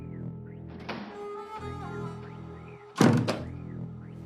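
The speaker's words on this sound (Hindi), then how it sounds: "दरवाजा बंद करो।" A door thuds shut indoors with a single close, solid knock over a quiet room hum, following earlier faint shuffling.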